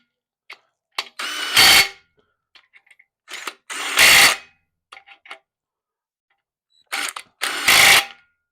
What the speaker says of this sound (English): We'll just bolt all these down.